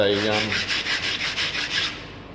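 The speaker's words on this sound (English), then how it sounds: "you can actually polish the edge of it if you want to" Close, rhythmic rubbing strokes of sandpaper on a hard acrylic edge, about a dozen quick back-and-forth passes, brisk and steady, with no voices.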